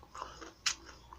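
A soft, close bite into roasted chicken ramen with veggies, with a quiet crunch and faint chewing, alone and brief.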